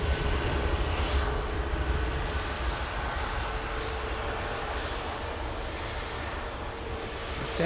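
A Southwest airliner taxis quickly toward the runway at a winter airport, its jet engines making a steady, loud roar with wind noise and no speech.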